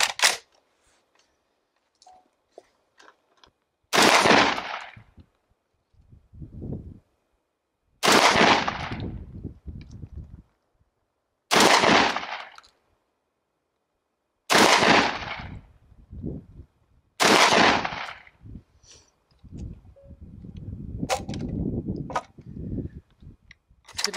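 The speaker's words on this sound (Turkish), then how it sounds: "Hazır buradayken biraz aşağı nişan alarak bir de yaf speed slug'la atışlarına bakalım." Five loud, sharp booms ring out at an outdoor range as a semi-automatic smoothbore shotgun fires speed slugs at a target, spaced a few seconds apart with echoing tails and quieter handling clicks between shots.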